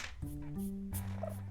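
A human voice imitating a dove's cooing in low, wavering tones that glide between pitches, close and steady for about a second and a half.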